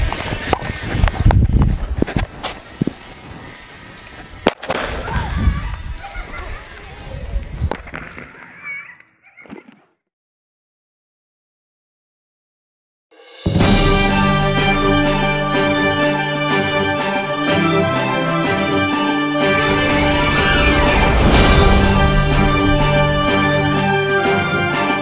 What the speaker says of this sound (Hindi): सोडियम मेटल को एक बंद कांच की बोतल में विस्फोट